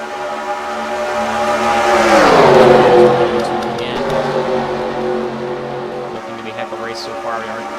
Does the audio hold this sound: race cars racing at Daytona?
yes